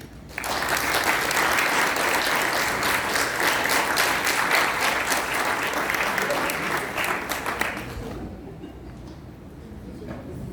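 Audience applause welcoming a speaker to the stage at a women's business expo, a dense steady clapping from a crowd that holds for about eight seconds and then thins and fades.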